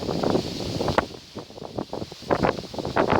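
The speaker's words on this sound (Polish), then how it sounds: "Ale wieje. No i ten wiatr nam jeszcze na dodatek suszy." Gusty wind buffeting the microphone in a garden, rising and falling in rough bursts, loud and close with no other clear sounds.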